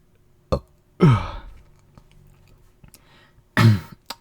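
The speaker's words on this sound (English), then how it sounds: "And I have to burp again." A person burps several times with short pauses between, close and fairly loud, with no talking.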